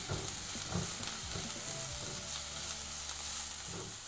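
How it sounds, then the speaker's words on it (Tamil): Ginger and onion sauté in a hot pan for egg fried rice, giving a steady, close sizzle and frying crackle with occasional stirring noises throughout. "இதையும் நம்ம இதில் சேர்த்துடலாம், வதக்கிடலாம்."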